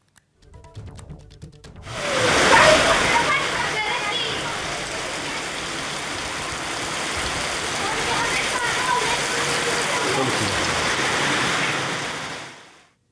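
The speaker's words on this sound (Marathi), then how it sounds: "कोल्हापूरमध्ये काल संध्याकाळी जयसिंगपूर परिसरात मुसळधार पाऊस झाला" Heavy rain pours in a dense, steady roar around Jaysingpur in Kolhapur, starting abruptly and holding loud and unbroken until it cuts off at the end.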